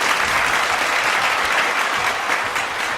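A video game wrestling crowd applauds and roars after a slam, producing a loud, dense, unbroken wash of clapping and cheering that lasts throughout without any talk.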